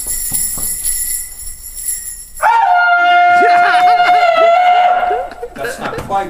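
A voice imitates the American woodcock's display call, giving a sustained, warbling whistle-like tone with wavering pitch, loud and close, preceded by quieter background sounds and breaths.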